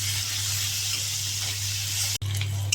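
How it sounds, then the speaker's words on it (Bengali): Onions and green chillies frying in hot oil in a wok, a close, steady hiss and sizzle with a constant low hum beneath, briefly cut by a sharp knock near the end. "পেঁয়াজ কাঁচা লঙ্কা ভেজে নেব।"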